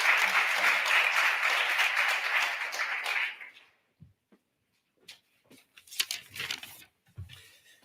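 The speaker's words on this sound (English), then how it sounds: "let's please give him a warm round of applause as we bring him to the podium" An audience at an inauguration ceremony applauds loudly for about three seconds, then the clapping fades out, leaving a quiet room with scattered shuffles and small sounds.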